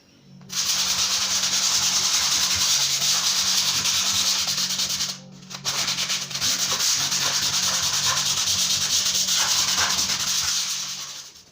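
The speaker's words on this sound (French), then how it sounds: "je vais me mettre à poncer mon congélateur" A household freezer being sanded with a power sander, a loud, steady abrasive whir running nearly continuously with one brief pause, close and alone.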